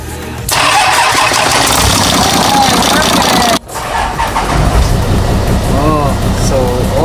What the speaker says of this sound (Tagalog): pag pina-start natin yung makina